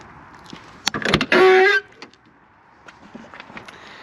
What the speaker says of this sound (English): I very rarely open the passenger door, but I guess that sound is very quickly fixable.